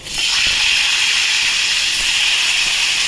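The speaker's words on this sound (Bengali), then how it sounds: "এবার আমি মাথাগুলো ভেজে নেব" A loud, steady hiss of hilsa fish heads frying in hot oil, starting abruptly and holding even throughout, with no voices.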